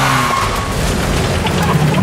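A car whose brakes have failed skids with a loud, sustained tire screech lasting about two seconds, close and continuous, over engine and road rumble.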